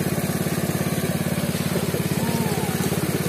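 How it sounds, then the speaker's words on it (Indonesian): A Robin engine drives a machine washing pepper berries, a steady close idle with a continuous low throb at an even rhythm. "Kita pun juga menggunakan mesin Robin."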